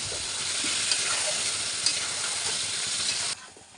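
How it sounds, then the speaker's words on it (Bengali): Chicken pieces frying in a pan with ginger-garlic paste, chili-onion paste, garam masala and salt give a steady close sizzle with faint stirring scrapes, cutting off abruptly near the end. "চিকেনটা আপনি যত ভালো করে ভেজে নেবেন চিকেনের টেস্টটা অনেক ভালো আসবে"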